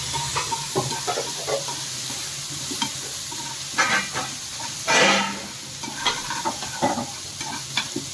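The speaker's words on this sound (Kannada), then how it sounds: "ಇದನ್ನ ಚೆನ್ನಾಗಿ ಫ್ರೈ ಮಾಡ್ಕೊಳ್ಳೋಣ." Ingredients for jackfruit sambar frying in a pan, with steady sizzling and hiss under repeated scraping stirs of a spoon, one louder scrape mid-way, close up and without talk.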